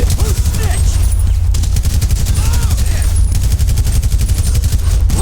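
Rapid automatic gunfire and sharp single shots from a Grand Theft Auto V gunfight during the prologue mission, loud and continuous, with dense bursts throughout and someone talking intermittently over the shooting.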